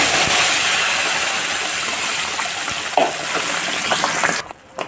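A paste of mustard greens, spinach and bathua hits hot oil with browned garlic cloves and sizzles in a steady loud hiss that drops off abruptly near the end.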